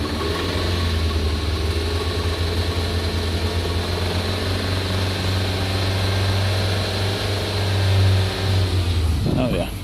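A 2013 Nissan Altima 2.5 engine held at steady elevated revs during a Sea Foam treatment, a continuous loud drone with a slight swell near the end, while a person talks over it.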